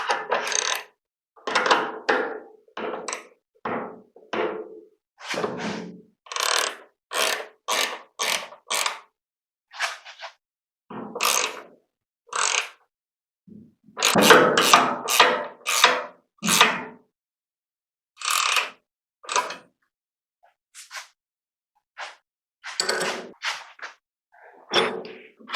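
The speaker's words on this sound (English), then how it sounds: "Now I take my wrenches." Wrenches tighten the bolts on a wheelbarrow being repaired, producing many short, dry creaking and clicking strokes in an uneven rhythm, close by, separated by brief silences.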